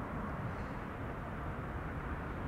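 A twin-engine jet airliner passes overhead, a steady broad roar of moderate loudness filling the whole clip with no break, heard outdoors near an airport approach.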